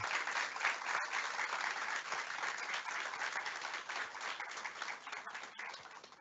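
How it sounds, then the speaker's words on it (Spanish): An audience at a panel on gender equity in Chile applauds steadily as two guest speakers are welcomed, a dense, fairly loud patter of many hands that holds evenly before tapering slightly at the end. "para quienes pido un gran aplauso"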